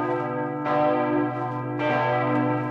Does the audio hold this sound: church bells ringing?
yes